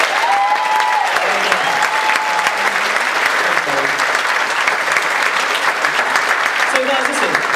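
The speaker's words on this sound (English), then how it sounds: "round of applause for our MC" An audience applauds steadily at a choir concert, a dense wash of clapping that continues throughout, with a voice briefly audible over it.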